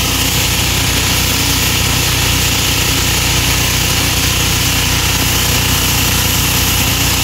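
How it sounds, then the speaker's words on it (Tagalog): A water pump runs loud and close while spraying water to clean a Manila street beside the Manila Zoo, a dense continuous engine roar mixed with hissing spray, unbroken and without talk. "Talagang binubomba nila para matanggal ang mga libag no, nitong daanan."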